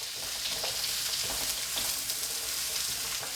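Onions, carrots and mushrooms frying in a pan for a steak and Guinness pie, a steady close sizzle with faint stirring crackles throughout.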